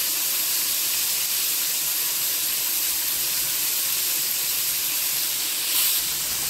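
Bombay duck fish deep frying in hot oil in a kadai, a steady loud hiss and crackle of bubbling oil running unbroken throughout with no voices.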